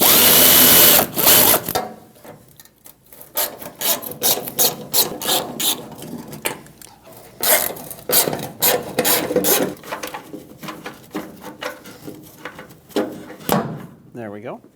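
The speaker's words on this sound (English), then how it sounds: "Use a 7mm socket and remove all 3 bolts that hold the filler neck onto the" A 7mm socket ratchets out the bolts holding the fuel filler neck to the bed of a 2008-2010 Ford F-250, giving close, rapid clicking bursts with metallic knocks and brief pauses.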